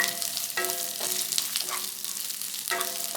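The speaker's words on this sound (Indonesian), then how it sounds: "Kita tumis sampai harum, sampai wangi." Garlic, onion and spring onion sizzle and fry steadily in a pan, with a few louder stirring scrapes at intervals and no talking.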